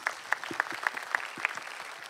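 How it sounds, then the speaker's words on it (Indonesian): An audience at an Indonesian talk show event claps in a short, moderate burst of applause, steady and even, with no voices over it. "Boleh kita kasih tepuk tangan dong."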